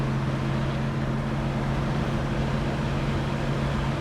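A 1967 Chevrolet Chevelle SS moving along with a steady low engine drone and road rumble, continuous and fairly loud without any speech.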